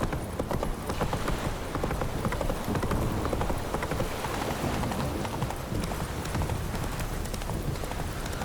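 Roach the horse gallops in The Witcher 3, a fast, continuous clip-clop of hooves at a steady rhythm, close and fairly loud without talk.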